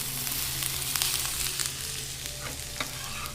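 Onion slices fry in hot olive oil in a frying pan, giving a close, steady sizzle and crackle with occasional stirring and no voices.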